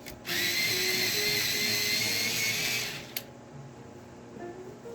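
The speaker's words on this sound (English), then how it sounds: "let me sharpen my Prisma" A Prismacolor colored pencil spun in an electric sharpener gives one loud, steady motor whine lasting about three seconds, then stops with a click, leaving a quiet room.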